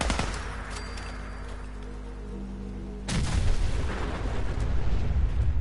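Gunfire in Fallout 4: a sustained rattling burst, then a heavier, louder volley of booming shots from about three seconds on, dense and continuous with no speech.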